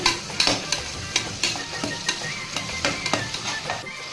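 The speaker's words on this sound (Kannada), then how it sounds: "ಒಂದು ಸ್ವಲ್ಪ ಬಟಾಣಿ, ಹಸಿ ಬಟಾಣಿ ಇತ್ತು, ಅದಕ್ಕೆ ಚೆನ್ನಾಗಿ ಫ್ರೈ ಮಾಡ್ತಾಯಿದ್ದೀನಿ" Onions and fresh green peas fry in a pan while being stirred, a steady close sizzle broken by repeated scraping strokes of a spoon roughly every half second.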